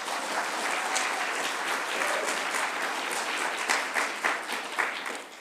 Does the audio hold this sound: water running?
no